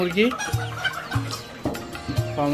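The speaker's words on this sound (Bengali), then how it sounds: "এটা হইলো টাইগার মুরগির বাচ্চা" Tiger chicken chicks cluck and peep in short repeated bursts at close range on a small poultry farm, with other fowl calling around them.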